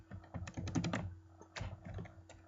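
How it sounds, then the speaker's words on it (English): Computer keyboard typing in several quick bursts of clicky keystrokes, close and fairly quiet, with short pauses between runs while entering a level name in the Sploder game maker. "Now let's just type it in again"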